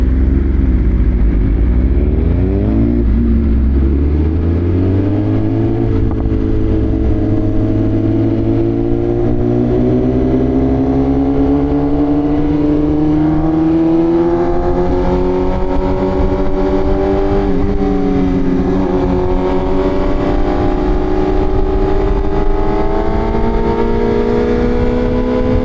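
A BMW M1000RR motorcycle revs hard and steadily as the rider pulls wheelies, the engine note climbing and holding high and loud for the whole stretch with no talk over it.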